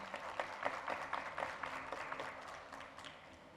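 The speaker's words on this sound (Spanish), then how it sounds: "Un fuerte aplauso, por favor," Faint, distant applause from an audience at an event for native languages day, a steady patter of many hands with a few sharper claps standing out.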